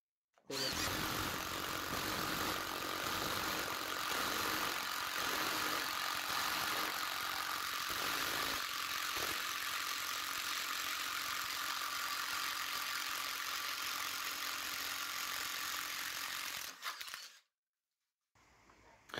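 A Parkside brushless impact wrench runs at full power on a small 2Ah battery, a loud continuous buzzing hammering whir lasting about seventeen seconds before cutting out abruptly, followed by silence.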